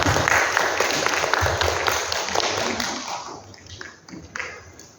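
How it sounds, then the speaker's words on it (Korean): An audience at a school admissions briefing welcomes the director with applause, a burst of clapping that is strong at first and then thins out, leaving a few scattered claps at the end. "박수로 맞이해 주시길 바랍니다."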